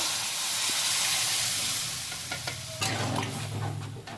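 Boiled moong dal with cauliflower and flat beans being stirred in a hot pan, steady sizzling and hissing with spoon scrapes, then a louder burst of bubbling and frying partway through.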